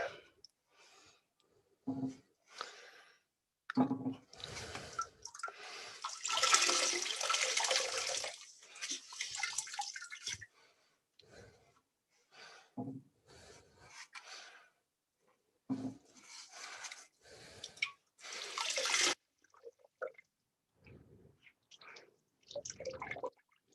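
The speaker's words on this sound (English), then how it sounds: "let's start draining water with the sponge out of the inside" Water is drained from inside a toilet tank with a sponge, giving intermittent splashes, drips and trickles of varying loudness, mostly close and separated by quiet pauses.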